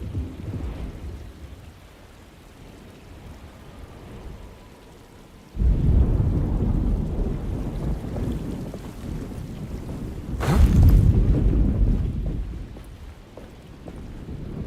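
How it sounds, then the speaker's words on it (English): Thunderstorm in the PC game Alone in the Dark: steady heavy rain throughout, with a deep rolling thunder surge midway and a sharper, louder crack of thunder later, both fading back into the downpour. "Just keeping an eye out for the storm."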